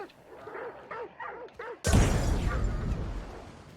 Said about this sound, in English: I'm gonna take these dogs out actually.